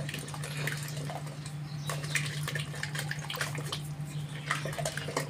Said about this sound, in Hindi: अच्छे से मिलाएंगे ताकि अच्छे से आटा इसमें मिक्स हो जाए